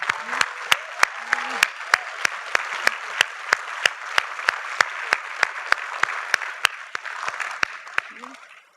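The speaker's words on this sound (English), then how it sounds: "have you give yourselves, your family, and your friends a big round of applause for all of your efforts and achievements" Steady, evenly spaced claps ring out loud and close over a softer bed of crowd applause at a university commencement ceremony, with a brief voice murmuring near the start and end.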